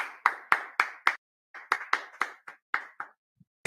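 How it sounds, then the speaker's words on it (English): Sparse rhythmic clapping, a few hands striking sharp, close claps in an even beat with a short pause midway, isolated against silence. "Let's go ahead and clap it up."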